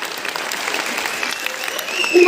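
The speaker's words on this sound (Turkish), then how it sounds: "Beni dinlediğiniz için herkese alkışlar" A short burst of audience applause at a school event held at the Selahaddin Eyyubi Mosque in Diyarbakır. The clapping is dense and continuous and is mixed with faint voices.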